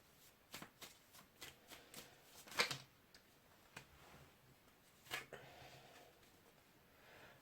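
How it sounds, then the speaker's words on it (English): Tarot cards from a Whispering Woods mini deck being shuffled and pulled, producing quiet, rapid card flicks and riffles in an irregular ticking rhythm, faint and close, with a couple of sharper snaps. "I'm just pulling 1 or 2 cards from the deck"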